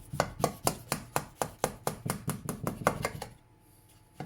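A knife cutting down the middle of a chilled, solid bread and butter pudding, about a dozen quick, even, close chopping knocks against the board, then a brief quiet.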